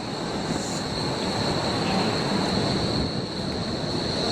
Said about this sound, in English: Coming here is the tram